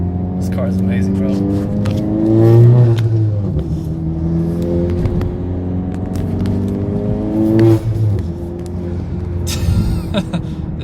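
A 10th gen Honda Accord accelerates on the road, engine pitch climbing through the gears in rising sweeps with a brief drop between shifts, close and loud inside the cabin, while people talk over it.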